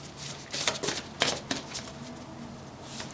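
A deck of oracle cards is shuffled by hand, giving soft riffling bursts and papery flicks at close range in a quiet room, with no talking.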